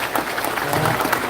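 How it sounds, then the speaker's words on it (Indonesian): A large audience at the LDII 2023 national work meeting bursts into steady, dense applause, a continuous crackle of many hands clapping at once from a packed hall. "Boleh tepuk tangan semuanya."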